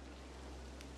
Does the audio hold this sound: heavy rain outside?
yes